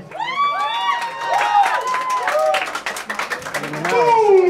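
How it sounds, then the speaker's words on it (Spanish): A crowd at a 2011 Halloween costume contest cheers and claps for a contestant, with shrill shouts and whoops rising over steady clapping throughout. "a ver ese aplauso"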